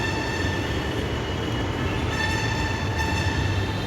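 A metro train arrives at an elevated platform at Alandur station, a steady loud rumble of wheels and rail noise with a sustained high whine running throughout, no talking.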